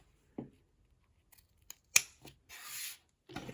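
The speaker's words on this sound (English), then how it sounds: "we're going to trim off the zipper ends" Fabric scissors trim off the excess zipper ends on a sling bag lining, giving a few crisp, quiet snips spaced apart with soft rubbing and handling in between.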